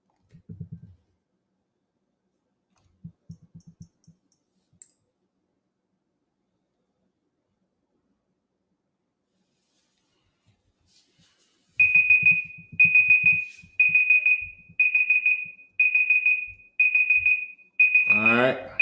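A quiz timer sits mostly silent apart from a few soft low pulses, then an electronic alarm rings in six loud repeated bursts with a higher ringing tone at the end.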